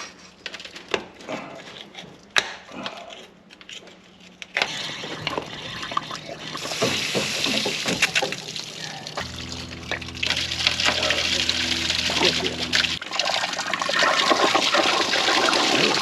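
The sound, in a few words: water flushing through an old Jaguar engine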